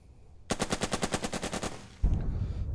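Gunfire in the Burden of Command tactics game, aimed at an enemy leader: a sharp, rapid burst of about ten evenly spaced shots, then a heavier thump with a lingering rumble.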